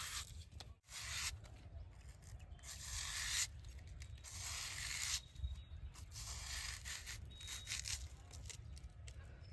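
Taro stalks being sliced thin with a knife for chips, giving quiet repeated crisp cutting and scraping strokes in an irregular rhythm, close and faint.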